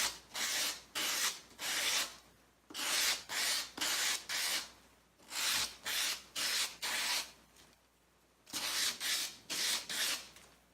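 Ebony plug ends are scraped and sanded on a pendulum jig, giving rhythmic back-and-forth rasping strokes in groups of two to four with short pauses between, close and clear, no speech.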